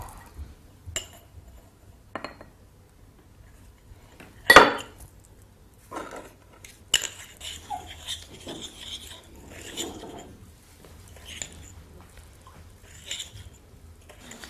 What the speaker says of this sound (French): une pâte en mettant quelques cuillères de poudre de bicarbonate. Mélangez simplement avec un petit peu d'eau.